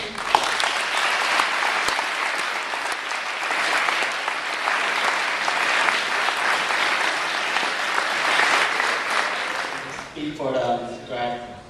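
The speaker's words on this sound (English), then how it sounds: "let's give our beloved teachers, host families, and your friends a round of applause" A banquet audience claps loudly and continuously for several seconds, the applause tapering as a voice begins speaking at the end.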